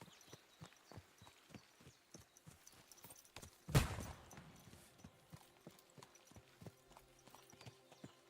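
Horse hooves clip-clop at a steady walking pace in Kingdom Come: Deliverance 2, soft and fairly close, with one sharp louder thump partway through and no talking.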